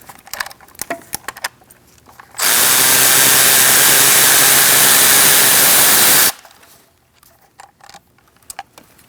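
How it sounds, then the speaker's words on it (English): A power tool whirs steadily for about four seconds while removing fuel rail bolts on a 2008-2014 Mercedes-Benz C300 3.0L V6 engine, loud and close, with quieter clicks and handling noises of tools before and after. "Next, we're going to take out these bolts for the fuel rail."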